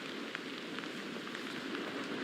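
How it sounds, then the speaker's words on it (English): Steady rain during Hurricane Milton pours onto surfaces in a constant, dense hiss with scattered distinct drop impacts, moderately quiet and with no voices. "the rain has been pretty steady all morning."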